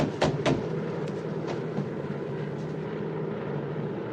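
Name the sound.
DC-3 airplane engines in flight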